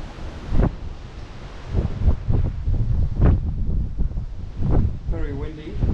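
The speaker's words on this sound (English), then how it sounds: "Very windy," Strong gusts buffet the microphone in heavy rumbling bursts on a cruise ship balcony at sea, with faint water noise beneath and a brief voice near the end.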